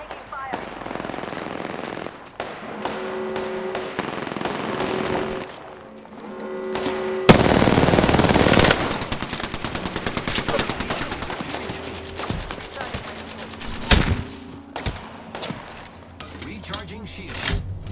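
Gunfire rings out in the video game Apex Legends, with dense bursts of automatic weapon fire and sharp single shots mixed with game effects, loud and sustained, with voices heard in the clip.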